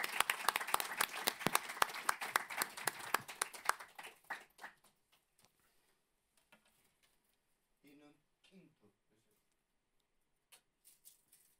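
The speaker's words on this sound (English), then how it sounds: "Give Roberto an applause for his performance." A festival audience at Indigenous Liberation Day 2022 applauds Roberto's performance: dense, lively clapping fills the first four seconds, then thins out and dies away, leaving scattered faint claps and brief voices.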